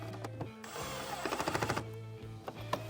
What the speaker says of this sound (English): tighten our screws.